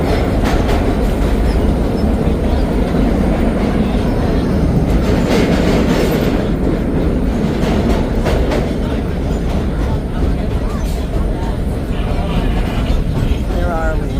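A vintage New York City subway train on a holiday nostalgia run rattles steadily over the rails, with rhythmic clickety-clack and a loud, continuous rumble heard from inside the car throughout.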